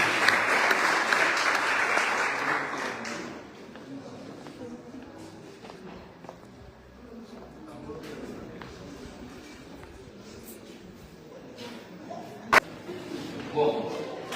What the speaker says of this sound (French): Maintenant d'applaudissement